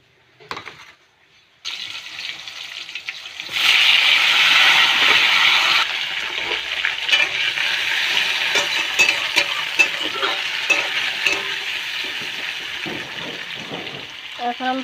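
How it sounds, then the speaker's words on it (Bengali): Tomatoes hit hot oil in a pan for tomato chutney with a sudden loud burst of sizzling that settles into a steady frying hiss, broken by stirring scrapes and clinks, with no speech. "আমি টমেটোগুলি ঢেলে দেবো"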